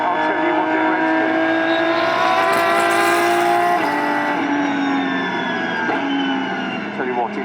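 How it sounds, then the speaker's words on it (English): An Aston Martin Vulcan, an 820bhp hypercar with a massive front-mounted engine and six-speed sequential gearbox, revs hard under flat-out driving, a loud continuous roar that rises and shifts through gears with brief dips. "a front-mounted massive engine driving the rear wheels through a 6-speed sequential gearbox"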